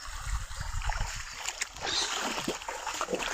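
Water gushes from three pipes into a rain-swollen stream, a continuous splashing rush with bursts of spatter, fairly close, with occasional voices underneath.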